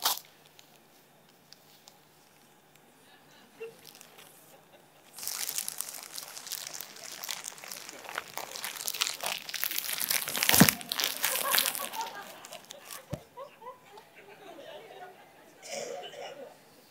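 Gift wrapping paper is ripped open in a loud, sustained stretch of crinkling and tearing that lasts several seconds before fading, with a speaker talking before and after and scattered bits of crowd reaction in a hall.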